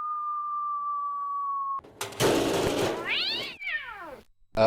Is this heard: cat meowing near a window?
yes